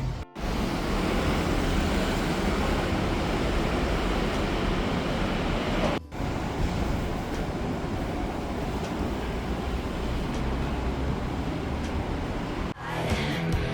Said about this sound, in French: il y a du bruit parce qu'il y a des voitures